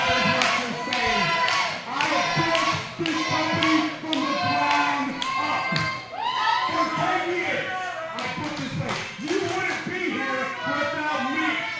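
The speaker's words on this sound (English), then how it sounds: "Crowd chanting for Derek Giannetti" Wrestling crowd at a UCW-Zero show chanting a wrestler's name, a loud, rhythmic chorus of many voices with clapping mixed in, steady throughout with brief dips between chant phrases.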